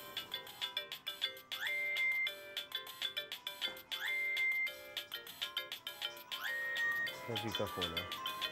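A phone rings with a bright electronic melodic ringtone, repeated phrases of chiming notes with rising glides, clear and fairly loud in a domestic drama scene.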